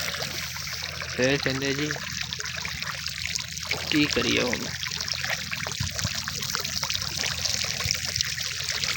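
Irrigation water runs steadily into a crop field with a continuous trickling, gushing flow that lasts the whole time. Someone talks over the water now and then.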